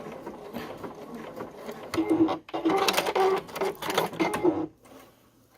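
A sewing machine stitches around a mushroom appliqué in short, close bursts of rapid needle chatter separated by brief pauses.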